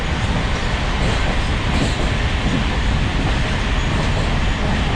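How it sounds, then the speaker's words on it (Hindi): Interior of a superfast express train's sleeper coach while moving, a loud constant broadband rumble and rattle of the carriage running at speed, steady throughout with no voices. "ये था ट्रेन के अंदर का इंटीरियर स्लीपर कोच का।"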